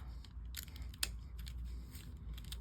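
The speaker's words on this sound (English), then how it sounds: "We're just going to cut that off." Scissors snip through a junk-mail paper envelope: a few short, crisp cutting clicks up close, one sharper snip standing out, over a low quiet room hum.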